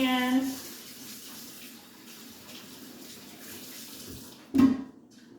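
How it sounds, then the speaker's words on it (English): Water runs from a tap for handwashing in a kitchen during food prep, a steady faint splashing stream that swells into a brief louder gush near the end. "Wash my hands."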